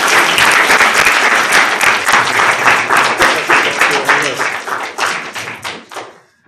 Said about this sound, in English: Round of applause for Mike